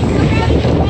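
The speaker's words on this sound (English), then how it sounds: "I know, the wind is crazy." Strong wind buffets the microphone at a beach during a family party, a dense steady low roar filling the whole moment with no pause.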